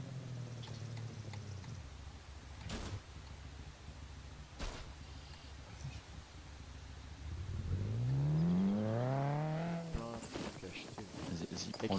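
Car engine droning steadily in the survival game SCUM, rising into a louder rev around the middle and falling off, with a few sharp impacts and voices talking over it throughout.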